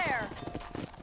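Horse hooves clip-clop in a quick rhythm under a short whinny at the start, from a cowboy's mount in Red Dead Redemption, with a voice calling out over the galloping.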